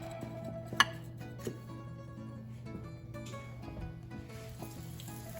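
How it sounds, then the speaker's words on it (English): Breaded chicken cutlets sizzle quietly in hot oil in a frying pan, a steady low crackle with a few sharp ticks and clinks, heard close with no talking. "And you put it in the frying pan"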